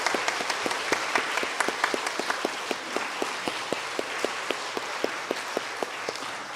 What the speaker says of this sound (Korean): 우리 인사하실 때 큰 박수로 맞아주시기 바랍니다.